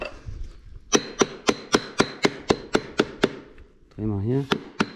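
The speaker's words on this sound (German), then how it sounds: "Ein Kunststoffhammer" A plastic hammer strikes a tractor drive shaft about a dozen times in a steady, rapid rhythm, each blow a sharp, ringing knock. Someone speaks briefly toward the end.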